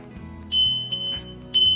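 A few small, bright rings of a small Christmas figurine bell, each a short metallic chime, sounding close over a low background hum.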